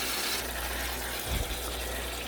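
Water pours steadily into a Cascade canister filter, a continuous broadband rush and gush lasting throughout, with a slight lower gurgle near the middle.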